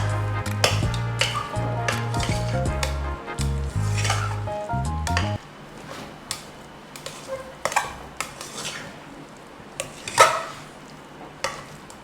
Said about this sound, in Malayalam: ഇനി നമുക്കിത് നന്നായിട്ട് അങ്ങോട്ട് മിക്സ് ചെയ്തിട്ടാം